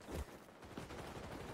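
Rapid gunfire from a first-person shooter video game, a dense burst of overlapping shots and automatic fire, heard at a distance and fairly quiet throughout.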